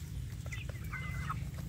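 Free-range village chicks (anak ayam kampung) cheep with soft, high chirps while they feed, scattered over a steady low hum.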